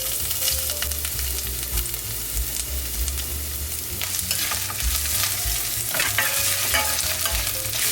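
Ginger frying in hot oil in a big pan, a steady dense sizzle with crackling bursts and occasional stirring scrapes, close and loud throughout.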